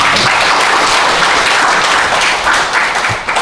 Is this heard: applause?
yes